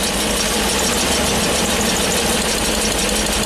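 A Ford E450 V10 engine runs with an ignition coil pulled, a steady close, rough idle with a faint knocking throb throughout.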